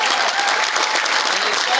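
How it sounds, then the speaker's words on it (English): A crowd at an outdoor political steak fry applauds the governor, a brief, dense burst of many hands clapping at once, loud and continuous. "How about a round of applause for our governor?"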